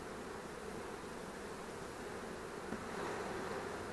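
A colony of honeybees drones at an open hive during beekeeping work, a dense, steady buzzing hum that swells slightly toward the end, with no talking.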